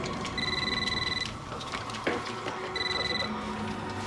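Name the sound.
telephone ringing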